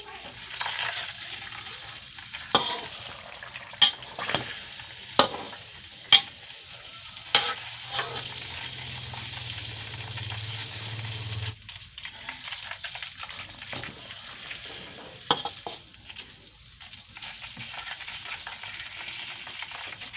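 Stuffed eggs fry steadily in hot oil for a long stretch, a continuous close sizzle broken by scattered sharp pops and spatters, with no one speaking.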